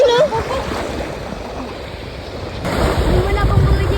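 Sea waves washing onto the shore, a steady broad wash with wind buffeting the microphone that swells louder toward the end, recorded close at the water's edge.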